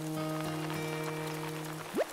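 Rain falls steadily in Animal Crossing: New Horizons as a soft, even hiss beneath sustained game-music tones, with a quick rising chirp near the end.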